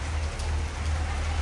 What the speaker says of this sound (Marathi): माथेरान का तर लयच पाऊस आहे